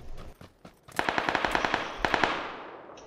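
Gunfire in PUBG: a rapid burst of about ten automatic shots, a brief pause, then several more, sharp and loud, with a ringing decay after.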